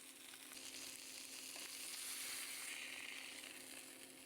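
Steak sears and browns in a pan with melting butter and aromatics, giving a steady, faint, continuous sizzle with soft crackles and no talking.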